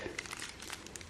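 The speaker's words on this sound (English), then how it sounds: "I like to rip stuff open." Packaging on a Mavic 2 Pro drone being ripped open, a faint, brief crinkling and tearing of plastic in quick bursts.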